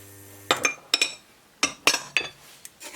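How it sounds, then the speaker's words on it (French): Sugar, salt and semolina being mixed in a bowl give several sharp metallic clinks of a utensil against the bowl, spaced irregularly, close and clear with no voices. "et on mélange."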